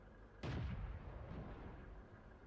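A single World of Tanks cannon shot from a Hetzer tank destroyer booms out suddenly and loud, its deep blast rolling and decaying slowly over the following two seconds.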